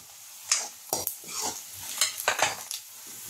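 Onions with onion-garlic masala stirred in a pan for sukka chicken cooked in ghee, with a spatula scraping in several separate strokes over a light sizzle, close, no talking.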